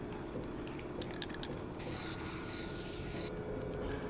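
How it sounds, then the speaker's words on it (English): In The Long Dark video game, a can sprays paint for a lure, a short steady hiss of about a second and a half set against soft ambient wind, preceded by faint clicks. "we are going to spray paint another lure over to here"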